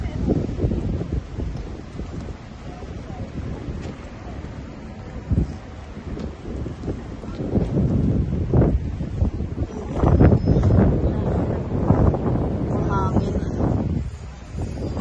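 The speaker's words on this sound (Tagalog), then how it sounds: "Mahangin masyado" Strong wind buffets the microphone with a steady, loud rumble that swells and gusts, while a person talks underneath.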